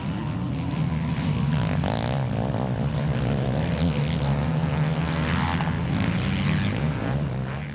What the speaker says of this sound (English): the young gun on the Yamaha two-stroke is chasing down Sean Smith now on the Chinese bike.